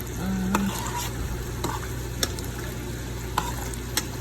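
Stirring in a pot of Vietnamese sour soup, a soft steady sizzle and simmer broken by a few sharp utensil taps against the pot, close up with no talk.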